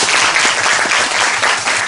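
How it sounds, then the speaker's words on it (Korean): Steady, dense audience applause fills a theatre after a performance of the musical 'Na-wa Natasha-wa Huin Dangnagwi', loud and continuous throughout with no voices on top. "여러분 모두를 위해서 박수 한번 다 같이 쳐보면."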